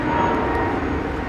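A steady, loud aircraft engine roar at Brisbane International Airport, continuous and unbroken, with no talk.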